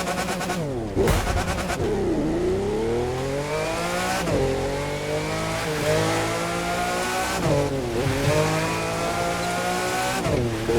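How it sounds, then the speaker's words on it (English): A Lamborghini Murcielago in the racing game The Crew 2 revs loudly through repeated upshifts, its engine note climbing and dropping in waves, with brief tire squeals along the way. "One of the example is this Lamborghini Murcielago in the Crew 2."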